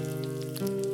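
Faint sizzling of burger patties frying on a hot grill, a soft crackle over a low steady hum.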